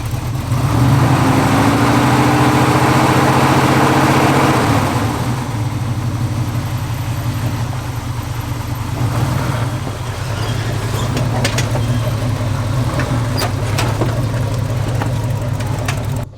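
A vehicle engine fires up with a brief rising rev, then settles into a steady, loud, close idle that runs without pause, with a few faint clicks over the rumble.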